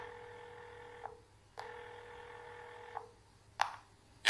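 Telephone call tones: a steady ringback tone sounds twice in long bursts with a pause between, followed by a couple of short clicks as the line picks up, no talk.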